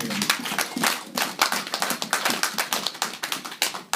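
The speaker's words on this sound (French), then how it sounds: "Est-ce qu'on peut acclamer pour cette parole?" A church congregation claps and cheers in praise, with dense, fast, uneven hand claps and a few shouts close by for the full stretch.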